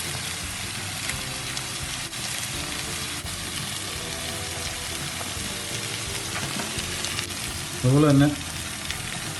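Crushed garlic sizzles in a pan alongside chicken, a steady close frying hiss with faint stirring; a brief spoken phrase cuts in near the end.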